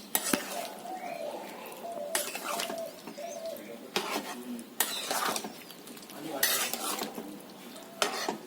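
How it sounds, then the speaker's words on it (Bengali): A spoon scrapes and clatters against a pan as fried paneer is stirred into a vegetable curry of capsicum and potato, with several sharp knocks of metal on metal at irregular intervals over soft background sizzle. "ভাজা পনির গুলো আমি এখন সব তরকারির সাথে মিক্স করে নিচ্ছি।"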